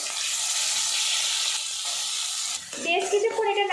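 Banana flower paste dropped into hot mustard oil with black cumin and slit green chillies, giving a steady loud sizzling hiss. Near the end the sizzle drops as a voice speaks over it.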